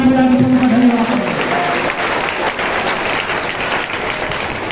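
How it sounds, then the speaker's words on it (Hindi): A church congregation applauds loudly, a dense burst of clapping that stays strong for several seconds, with a voice or sung note briefly over the start. "जोरदार ताली बजाने के लिए धन्यवाद।"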